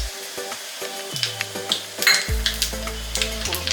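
Asafoetida dropped into hot oil with cumin for a Gujarati undhiyu tempering, a close sizzling hiss with stirring clicks and a louder surge of frying partway through, no voices.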